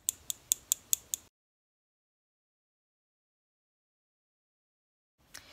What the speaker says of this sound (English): you're going to take your LipSense color and you're going to shake this for about 20 to 30 seconds